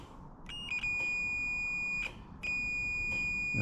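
An electrical tester on a Peterbilt horn circuit sounds a steady high electronic beep, held for over a second, dropping briefly, then resuming, close and clear against low background hum.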